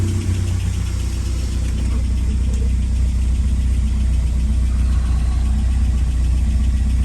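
A truck engine runs at a steady idle, a loud, even low rumble with faint mechanical ticking, no voices over it.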